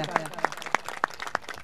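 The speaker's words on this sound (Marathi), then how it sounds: "एकदा जोरदार टाळ्या।" Scattered hand claps ring out from a crowd at a cricket tournament prize ceremony, the Champion Trophy Shiral 2024, several sharp claps spaced irregularly rather than a sustained ovation.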